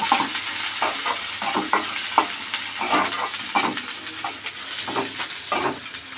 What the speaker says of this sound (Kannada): ಫ್ರೈ ಆಗಿದೆ ಈರುಳ್ಳಿ ಎಲ್ಲ, ಮೂಲಂಗಿ ಹಾಕ್ತಾಯಿದ್ದೀನಿ.